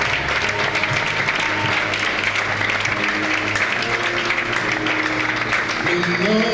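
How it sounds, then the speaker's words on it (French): A church congregation cheering and applauding the name of Jesus, with steady, dense clapping throughout and voices and music carrying over the sustained applause. "Est-ce que nous pouvons encore acclamer plus fort le nom de Jésus?"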